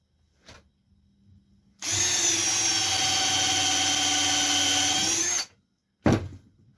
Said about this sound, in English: I'm going to countersink the hole about well, that much right there